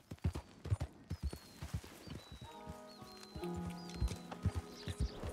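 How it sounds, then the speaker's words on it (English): Horse hooves in the video game Red Dead Redemption 2 beat a regular, close clip-clop. Partway through, sustained tonal background sounds join in while the hoof beats keep going. "I hear a horse."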